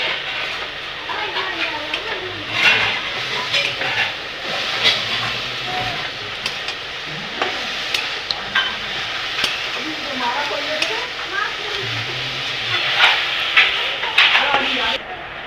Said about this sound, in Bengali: ভালো করে নেড়েচেড়ে মিশিয়ে দিয়েছি